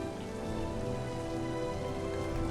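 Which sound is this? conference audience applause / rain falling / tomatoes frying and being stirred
rain falling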